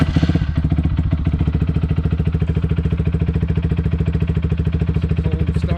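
A KPR200 motorcycle with an upgraded exhaust fires up from a cold start and settles into a loud, close, evenly pulsing idle with a steady rapid chug throughout.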